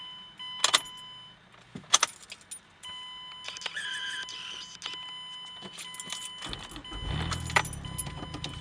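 A car's ignition key is turned off and back on, with short sharp jangles and clicks near the start, then a dash chime tone and faint whirring, ending in a low rumble; quiet whispery voices are faintly present.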